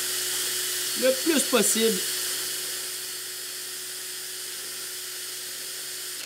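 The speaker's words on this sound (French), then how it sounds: "On prend ceci et on tourne la perceuse et on s'en vient ici pour enlever" An electric drill whines steadily and loudly, bevelling the end of a potato cannon tube, while someone speaks briefly over it early on.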